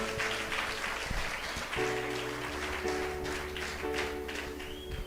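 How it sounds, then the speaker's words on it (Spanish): A church congregation claps hands together at a service, a sustained spread of overlapping claps over sustained background music. "Si lo crees, dale fuertes palmas al Señor."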